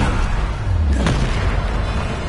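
A Bombarda spell explodes in Hogwarts Legacy: one heavy boom with a low rumble, standing out near the middle of a dense, steady game soundscape.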